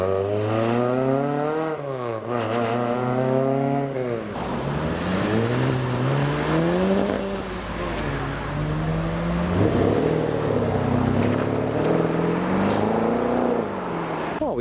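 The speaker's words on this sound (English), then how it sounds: "Oh, there's a few people running to capture this one leaving. Ford Escort Mexico Mark 1." A classic Ford Escort Mexico Mark 1 pulls away from a car meet, its engine revving up and down through several rising and falling pitch sweeps, loud and close throughout, with crowd noise in the background.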